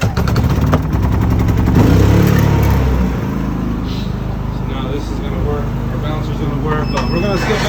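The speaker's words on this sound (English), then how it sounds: "Now I'll turn on our generator." A portable generator starts up beside a roadside mobile tire service truck, its engine catching with a loud rising roar before settling into a steady running drone, with speech over it.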